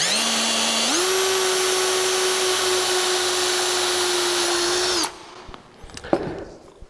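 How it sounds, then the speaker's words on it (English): A 3/16 inch drill bit bores through a plastic router table base, the motor whining loud and steady for about five seconds, its pitch stepping up early, then stopping abruptly and leaving a few faint clicks and handling knocks. "Now I'm using a 3/16 inch drill. I'm just going to drill straight on through the plastic base there."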